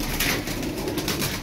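A flock of Turkish tumbler pigeons coos together in a steady, overlapping murmur, with continuous close cooing and no clear pauses.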